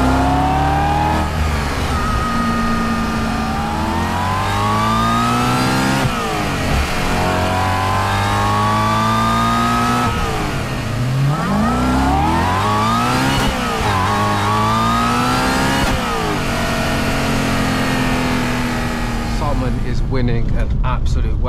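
Supercharged stage 3 Audi B7 RS4 accelerating hard through the gears, loud engine revs climbing in repeated sweeps with sharp shift breaks, close inside the cabin, someone talking over it.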